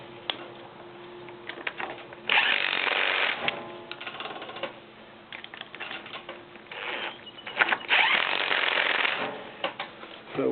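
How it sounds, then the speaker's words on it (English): A mower axle on a Toro 522xi hydrostatic tractor being tightened with a torque wrench: close mechanical ratcheting and clicking in two dense bursts, separated by quieter handling noise. "then we'll go ahead and torque it with a torque wrench."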